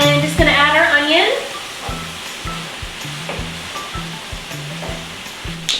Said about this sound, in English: I'm gonna let our onions cook with the beef for a few minutes